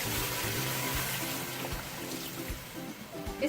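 Water is poured into a pot of mutton curry with potatoes, a steady splashing, trickling stream heard close up against a low kitchen background.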